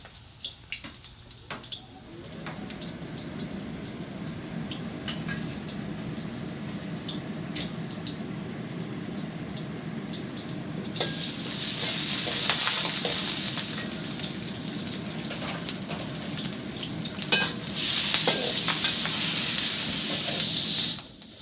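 Garlic frying in a hot wok, a steady hiss and sizzle that swells louder in two surges, with occasional clinks of utensils against the pan.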